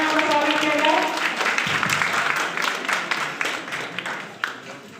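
An audience bursts into loud, sustained applause at a university recitation event; a voice is heard at the start before dense clapping takes over and slowly thins out.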